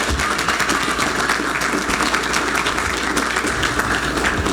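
Audience at a speed pitch competition gives a big round of applause, dense steady clapping throughout, close and loud.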